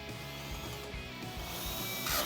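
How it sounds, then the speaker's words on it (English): A power drill with a small 3/32 inch bit bores a pilot hole for self-tapping screws while a Jeep Wrangler JK flat fender flare is being fitted, a close, steady whir running about two seconds with a rising burst at the end. "I'm going to drill a very small pilot hole with a 3/32 inch drill bit"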